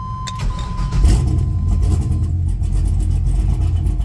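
A turbocharged LS V8 in a 1984 GMC Sierra square-body truck cranks and fires up, then settles into a loud, lumpy idle that rumbles steadily close by.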